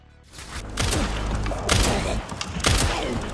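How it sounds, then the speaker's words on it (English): Shotgun blasts in the survival-horror game Resident Evil Requiem: three heavy, booming discharges in quick succession, loud and close, each with a rumbling tail. "Leon will clear the entire room with a shotgun."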